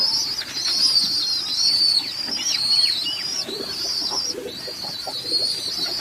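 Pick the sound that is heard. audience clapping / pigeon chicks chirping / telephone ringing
pigeon chicks chirping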